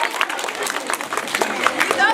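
A crowd applauds, a dense wash of clapping that carries on steadily throughout.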